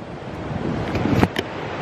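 Wind gusts in the Gambia buffet the microphone with a low, rumbling rush, a brief sharper crackle in the middle, no speech.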